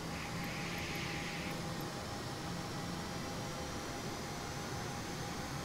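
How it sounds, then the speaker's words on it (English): An Airbus A320neo engine spools up in a flight simulator, giving a steady, loud, unbroken roar and hiss that holds level from start to finish with no talking. "So you can hear the engine starting up."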